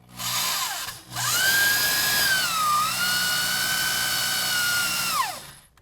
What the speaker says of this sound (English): we're going to drill a 5/8 hole into our plastic kick-out